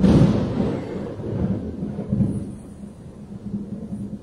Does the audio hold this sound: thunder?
yes